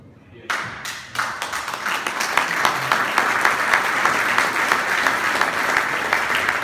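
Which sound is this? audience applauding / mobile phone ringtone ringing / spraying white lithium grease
audience applauding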